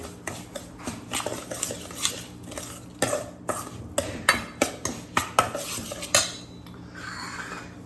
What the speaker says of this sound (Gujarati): હવે આપણે એને મિક્સ કરી લઈશું.